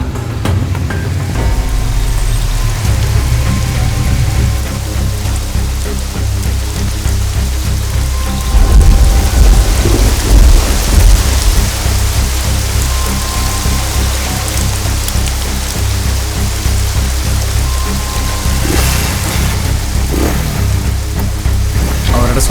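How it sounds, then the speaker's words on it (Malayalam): Heavy rain pours steadily with rolling thunder, a dense, loud, continuous wash of downpour with low rumbles swelling midway, no voices. "ഇവിടെ ഭയങ്കര മഴയാ"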